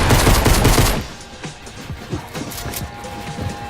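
Pump shotgun fire in a build-battle shooter game: a loud dense burst of blasts in the first second, then a run of sharper, quieter cracks and thuds scattered through the rest, with no voices.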